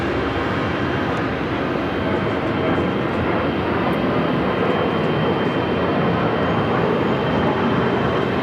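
An airplane at Los Angeles International Airport (LAX) makes a loud, sustained jet roar that holds steady for the full span without pauses. No voices are heard.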